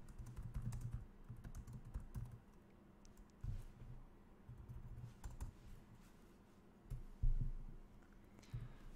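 Quiet keystrokes on a computer keyboard while typing and deleting a word in an Excel spreadsheet, an uneven patter of clicks with a few heavier taps, close and alone.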